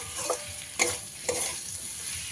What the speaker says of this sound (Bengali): সব কিছুকে ভালো করে মিশিয়ে নিতে হবে